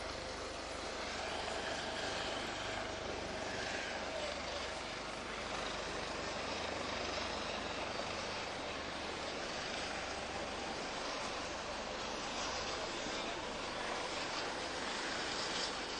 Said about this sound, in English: State police helicopter heading over to shock trauma overhead, and we paused for a moment.